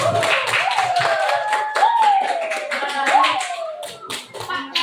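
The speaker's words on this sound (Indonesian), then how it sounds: "Oke, kasih tepuk tangan balik." Classroom applause as students clap hands together in quick repeated bursts, a dense run of sharp claps close by with voices talking over it.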